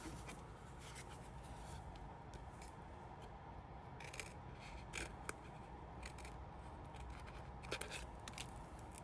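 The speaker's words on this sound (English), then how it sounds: "So we're going to cut out these two legs, the two hands, and then we're going to cut out the head" Scissors cutting out paper craft pieces, a run of faint, close snips and rustling paper with steady low background noise.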